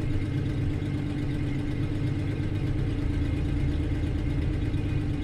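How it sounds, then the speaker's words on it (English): A car engine runs steadily at low, rumbling revs, missing on one cylinder, a continuous close throb with no talk over it. "we're missing on one cylinder"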